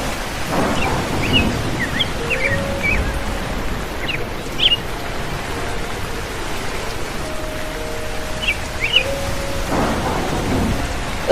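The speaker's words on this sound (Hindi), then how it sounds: "बारिश भी हो रही है" Steady rain hisses throughout while deep thunder rolls in low and long, with a few faint bird chirps scattered over the downpour; no voices.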